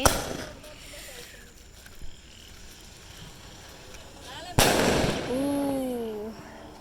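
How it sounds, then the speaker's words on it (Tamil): After a sharp crack, a whistling Diwali spinning-wheel firework spirals upward with a warbling, wavering tone over outdoor background noise. "சங்கு சக்கரம் மேலே போய் சுற்றிக்கிட்டே வந்து வெடிக்குது."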